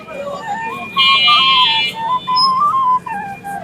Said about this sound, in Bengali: বাঁশি বাজাচ্ছেন